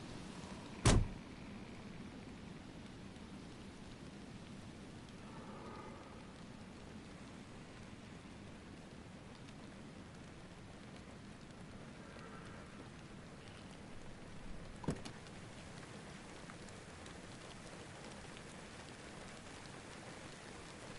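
Steady heavy rain in the video game DayZ pours throughout, a constant dense hiss, with a couple of brief sharp knocks and no clear thunder.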